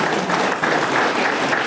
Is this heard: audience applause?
yes